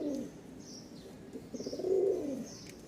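Male and female pigeons cooing close by, a few soft low coos followed by a louder, swelling coo, with faint chirps in the background.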